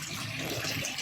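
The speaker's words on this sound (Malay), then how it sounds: "Sini kita boleh adjust lagi berapa laju air tu keluar" Water gushes steadily from the pipe outlet of a pool pump feeding a DIY canvas pool, a close, constant splashing rush with no voices.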